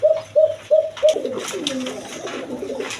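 A male pigeon coos close by, four short, evenly spaced calls followed by a longer rolling, warbling coo, clear and alone.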